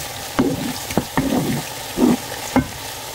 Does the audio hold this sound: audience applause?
no